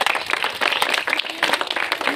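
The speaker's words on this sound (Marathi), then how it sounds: "सगळ्यांना आपण जोरात टाळ्या वाजवून" An audience at a Republic Day gathering in Kolhapur claps loudly and steadily in a dense, close burst of applause.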